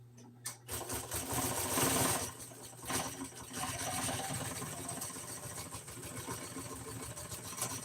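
A sewing machine stitches in a steady, fast mechanical whir close by, running continuously with a brief pause near the start and no talking.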